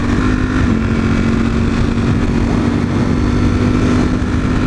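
A motorcycle cruises along the road on a cold group ride home, its engine a loud, steady drone with rushing wind noise throughout and no speech.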